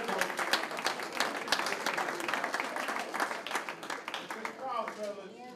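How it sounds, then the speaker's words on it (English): Enthusiastic audience applause at a graduation ceremony, loud and crackling at first, then thinning out, with a voice speaking over the clapping toward the end. "Give another round of applause."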